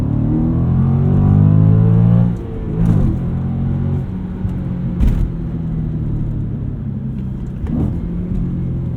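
A deep V8 engine in a 2007 Audi RS4 roars as the car accelerates, then eases off into a rumbling burble with a few sharp thumps and pops, loud and close.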